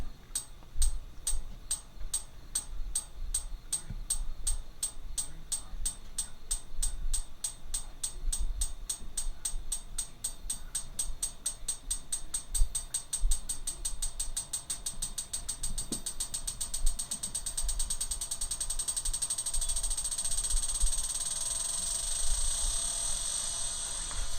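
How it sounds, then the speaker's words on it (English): An object bounces again and again on a thick, heat-treated steel anvil, producing a long series of sharp metallic ticks that start spaced apart and speed up into a rapid, dense rattle; no speech. "the thick steel that was heat treated does the best bouncing"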